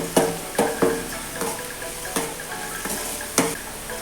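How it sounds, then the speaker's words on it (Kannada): Curry leaves fry in hot oil in a pan, giving a continuous crackling sizzle with sharp pops and spits breaking out every half second or so, close and fairly loud. "ಫ್ರೈ ಆದ ನಂತರ ಕರಿಬೇವು ಹಾಕಬೇಕು. ಸ್ವಲ್ಪ ಇದನ್ನು ಫ್ರೈ ಮಾಡಬೇಕು."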